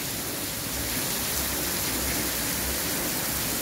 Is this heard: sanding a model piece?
no